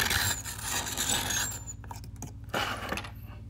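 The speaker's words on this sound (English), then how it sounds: "We've got a sharpener like this, without a blade, where I grind down the lead nicely" An M+R 0970 bladeless lead pointer grinds down pencil lead up close, giving short scratchy rasping strokes. A dense grinding burst comes first, then a pause, and two more brief scrapes follow near the end. Nobody talks.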